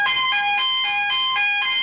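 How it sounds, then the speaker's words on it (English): The yodel alarm of a fixed CO2 fire-suppression system on a cruise ship sounds loud and close, an electronic tone that warbles in rapid rising-and-falling cycles, repeating about every quarter second, with no talking. "When you open the door, the yodel alarm will sound like this."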